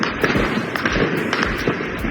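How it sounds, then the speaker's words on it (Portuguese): Rapid bursts of sharp cracking gunshots during a police operation against traffickers in Rio de Janeiro, many in quick succession with some echo, steady and loud across the whole stretch. "Quase 200 disparos em 1 minuto."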